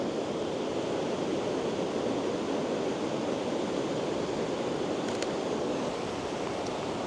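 Ocean waves break continuously on a shore, a dense, steady roar of surf with a faint wind rumble and no voices.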